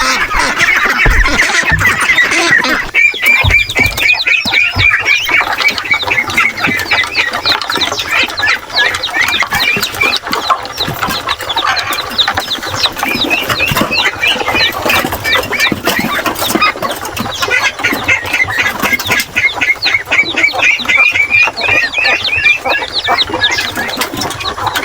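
Hungry Peking ducks on a farm, a loud, continuous chorus of quacking and calling close by, with other farm birds clucking amid the noise.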